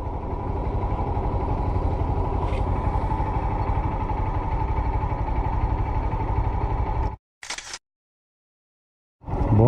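A motorcycle engine running steadily for about seven seconds on the BR 230 highway in Paraíba, Brazil, with a camera shutter clicking partway through, then cutting to near silence and short bursts.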